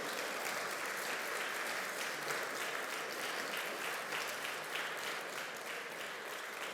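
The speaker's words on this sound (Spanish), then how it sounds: "Se le va a hacer un aplauso al Señor" A church congregation applauds loudly and steadily throughout, a dense, continuous wash of many hands clapping together with no break.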